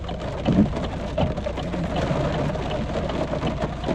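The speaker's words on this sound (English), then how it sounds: "it's rain." Rain pattering steadily with a low rumbling undertone, continuous and fairly close, no voices.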